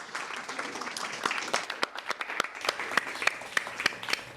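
An audience at a university radio event applauds four speakers, steady clapping with distinct individual claps growing more pronounced, moderately close and continuing for several seconds.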